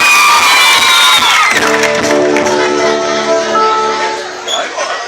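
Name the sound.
crowd applauding and cheering for a singer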